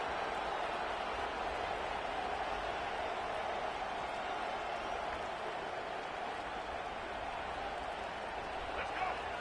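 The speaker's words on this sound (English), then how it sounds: "The roar of the crowd trying to fuel this defense to keep them pinned in their own end." Stadium crowd roars steadily at a football game as the defense tries to keep the offense pinned in its own end, a broad, dense wash of noise holding level throughout with no break.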